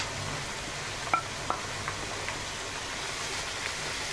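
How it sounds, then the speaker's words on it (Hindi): A stuffed-tomato filling with coriander powder, turmeric and red chilli sizzles steadily in a pan, while a few soft scrapes and taps of a spoon mark the stirring. "और अच्छे से मिक्स करूंगी।"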